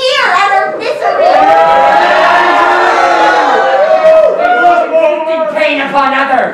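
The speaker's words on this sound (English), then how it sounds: "Listen to them cheer at our misery." Many voices shout and cheer together in a staged gladiator arena scene, a loud and sustained high-pitched roar that swells and holds without a break.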